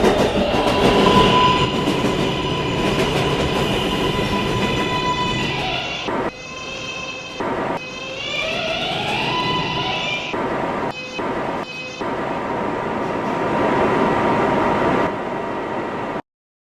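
A New York subway 7 train rolls along with a loud, steady rumble, squealing wheels and rising electric motor whine, interrupted by brief drops and cuts as it runs.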